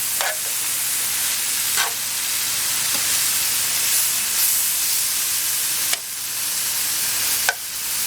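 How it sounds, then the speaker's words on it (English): Garlic, shallots and mushrooms sauté in a pan with a loud, steady frying hiss, punctuated by a few spaced stirring scrapes, no voices. "the garlic, the shallots, the mushrooms are cooking down"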